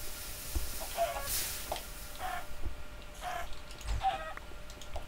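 Chickens clucking in Minecraft, several short separate clucks and squawks spread across the stretch at moderate loudness over a faint background hiss, with no talk over them.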